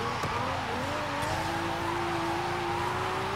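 A Toyota Soarer with a 1JZ engine drifting in Forza Horizon 5, with a sustained tire squeal rising slowly in pitch over a constant loud engine drone and road roar, with no pauses.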